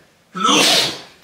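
A single close, sharp human sneeze indoors, bursting suddenly and trailing off quickly, with no talking around it.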